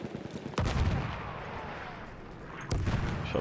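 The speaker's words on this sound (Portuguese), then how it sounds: "Deixa eu aproveitar que estão explodindo tudo aqui." Explosions and gunfire in the video game Battlefield 1, with two heavy, loud blasts rumbling and decaying amid continuous distant battlefield noise.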